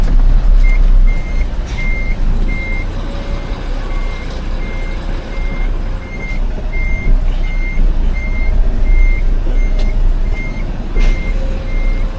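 A long-wheelbase 2007 Mitsubishi Fuso Fighter FM260 truck reverses, its backup alarm repeating a loud, evenly spaced beep over a heavy, rumbling diesel engine close by, with no one speaking.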